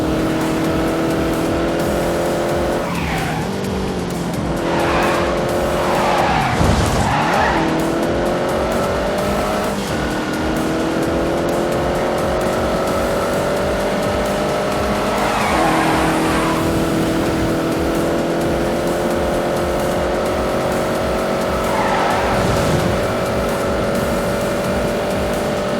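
Engine roars steadily and sustained in The Grand Tour racing game, a Porsche speeding with repeated tire squeals and skids cutting through the continuous drone, loud and close throughout.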